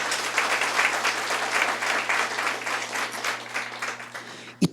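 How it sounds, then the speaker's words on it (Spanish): A church congregation breaks into loud, sustained applause during a sermon, a thick wash of clapping that holds steady for several seconds over a low electrical hum before cutting off. "Dale ese fuerte aplauso al Señor."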